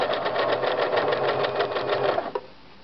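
A sewing machine runs steadily along the bottom seam of a messenger bag with gussets and Peltex, its even rapid stitching close and loud before stopping with a faint click.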